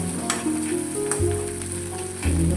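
Spiced breakfast mixture with green chillies frying in a pan, a steady close sizzle throughout with a few stirring knocks and scrapes, no voices.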